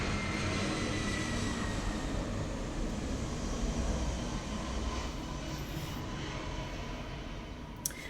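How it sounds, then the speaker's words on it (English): Airplane flying overhead, a steady broad engine rumble and whoosh that holds for several seconds and slowly fades, distant to moderate in level, with no voices. "Here comes a plane."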